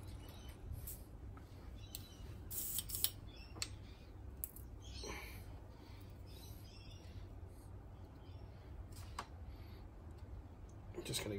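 A bottle of SMS premium jet black paint, used for painting a 1/24 scale model, is shaken, giving a steady run of sharp rattling clicks and ticks at close range over several seconds.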